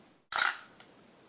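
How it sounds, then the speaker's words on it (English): An SLR camera shutter fires with a sharp mechanical snap as the mirror flips up, then a softer second click follows about half a second later, close and alone in a quiet room. "And when I press the shutter,"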